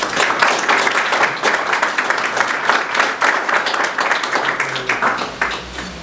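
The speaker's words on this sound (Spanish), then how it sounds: "al cual recibimos con un fuerte aplauso" An audience applauds to welcome a law lecturer to the stage for an evening talk, with dense, steady, fairly loud clapping that fills the room and holds throughout before tapering slightly at the end.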